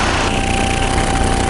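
Small aircraft piston engine at reduced power, 2,800 RPM on approach, droning loudly and steadily with a constant tone throughout.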